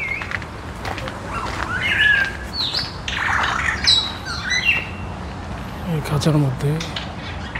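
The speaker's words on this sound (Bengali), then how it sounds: "গ্রে প্যারট, আই থিঙ্ক এটা গ্রে প্যারট" A grey parrot in a zoo cage in Portugal lets out a run of sharp squawks and whistled calls at moderate distance, with someone speaking over parts of it and a low crowd murmur behind.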